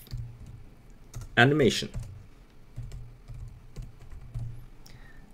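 Computer keyboard typing out a short animation name while setting up a Roblox animation, a brief cluster of soft key clicks near the start beside a short spoken word and quiet background.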